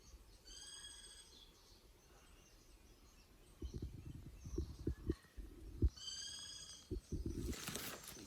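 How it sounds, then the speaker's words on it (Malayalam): Birds call at night around a raised treehouse in the woods, with two bursts of clear, repeated chirping calls separated by quieter stretches, and some nearby low thumps and knocks in the second half. "ഫുൾ പക്ഷികളെ സൗണ്ടാണ്"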